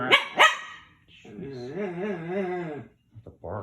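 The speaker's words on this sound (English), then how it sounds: "That's a bark." A whining dog gives two sharp barks, then a long wavering whine, followed by a few short yips, all close and loud with no one talking over it.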